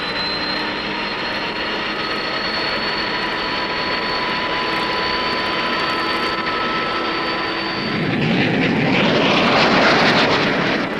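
A Banshee jet fighter takes off from the deck of the Royal Canadian Navy carrier HMCS Bonaventure. A loud, sustained engine whine with steady tones builds into a broad roaring rush near the end as the jet launches.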